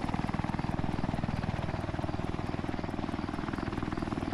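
A helicopter in the video game Altis Life drones steadily with a loud, rapid rotor chop that pulses evenly throughout, close and continuous with no talk over it.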